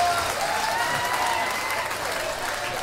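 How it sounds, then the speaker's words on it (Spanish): Audience applause at a stand-up comedy competition in Ciudad Juárez, a dense steady burst of clapping heard alone for a few seconds, moderately loud and filling the room. "Un aplauso para David Acosta."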